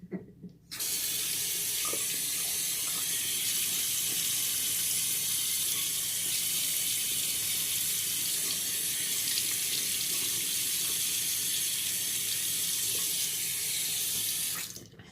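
Tap water runs into a bathroom sink during a shave, a steady loud close hiss that starts abruptly, holds evenly for most of the stretch, then cuts off.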